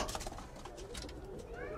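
Racing pigeons of several breeds cooing in a loft in Gaziantep, soft throaty coos close by, with a person's voice murmuring faintly underneath.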